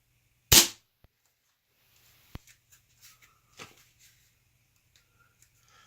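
A Weihrauch HW97KT underlever air rifle fires a single sharp, loud, close crack, followed by faint mechanical clicks and handling noises in a quiet setting.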